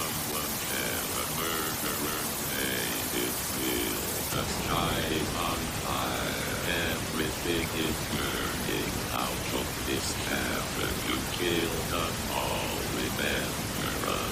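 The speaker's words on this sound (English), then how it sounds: "doing so treats us to some unsettling audio coming out of the static. This is not our first rodeo, theorists. This is clearly some backwards audio" Harsh hissing static with an eerie, warped voice-like sound running through it, reversed speech buried in the noise from the Book of Bill, continuous throughout.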